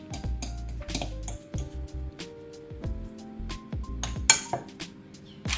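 A fork clinks and scrapes against a bowl while mashed Japanese sweet potato is stirred together with butter and soy milk, with steady close rhythmic tapping and scraping throughout.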